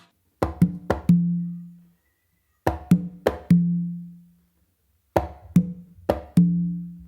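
Conga and tumba repeat the same short guaguanco pattern three times: sharp slaps and a muffled stroke, then a deep ringing open tone on the tumba, with pauses between.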